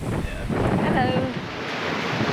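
Ocean waves and strong wind at sea aboard a sailboat on a rough passage from New Zealand to Fiji, a steady loud roar of wind buffeting and surf with faint voices mixed underneath.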